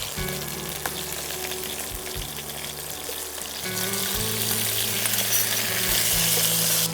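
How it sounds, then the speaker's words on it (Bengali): Boiled turnip pieces fry in a pan, a close sizzle that grows louder partway through, under a low steady hum from a nearby appliance. "শালগমটা কিন্তু আমরা বেশি ভাজবো না হ্যাঁ হালকা"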